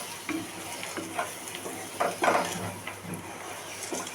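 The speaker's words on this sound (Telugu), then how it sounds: "స్లోగా ఇలా మిక్స్ చేసుకోండి." Eggs and chopped coriander stirred slowly in a hot pan give a soft continuous sizzle, broken by several light scraping strokes of a spoon against the pan.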